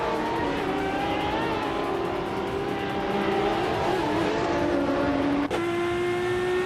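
Race car engines roar in a racing video game, a steady loud drone with rising and falling pitch as cars accelerate, shift and run close together.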